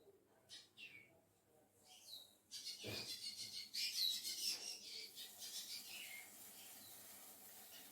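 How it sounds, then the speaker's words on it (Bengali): Birds chirp outdoors in short, high, scattered calls, with a brief louder burst of tweets near the middle and then a steady, fairly faint chatter that carries on to the end. "পাখিরা কি সুন্দর দেখেছো, ডাকছে চিক চিক করে, আওয়াজটা বেশ সুন্দর লাগছে।"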